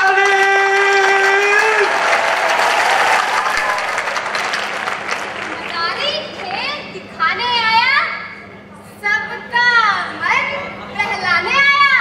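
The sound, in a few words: crowd clapping for the street performer's boy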